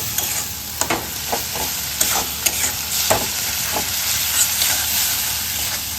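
Masala spice paste fries in oil as it is stirred, a continuous sizzle broken by sharp scraping ticks and clacks of a spoon against the pan, close and moderately loud with no talking.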